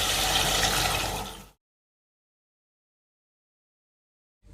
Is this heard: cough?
no